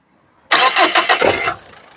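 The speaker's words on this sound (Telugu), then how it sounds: "సింగిల్ సెల్ఫ్ లో కార్ స్టార్ట్ అవుతుంది" A 2014 Renault Scala RXL engine cranks briefly and catches on the first try, a loud burst of starter whir settling quickly into a quieter idle.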